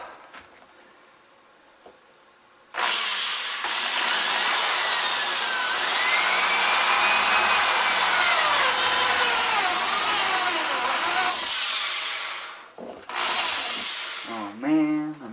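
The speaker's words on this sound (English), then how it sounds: "Power to the drill." A power drill whirs loudly for about nine seconds, then cuts off; a second shorter burst follows with a brief voice at the end, while installing a snowmobile seat heater.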